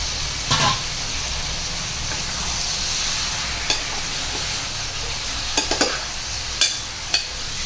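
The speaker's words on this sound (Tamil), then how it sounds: "சிக்கன் நல்லா வதங்கிட்டு இருக்கட்டும்." Salted chicken sautés in a pan for chicken kuzhambu, a steady close sizzle and hiss punctuated by a handful of sharp clinks and scrapes from stirring, with no speech.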